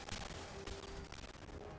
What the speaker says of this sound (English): There's too many explosion sounds. The engine can't handle it.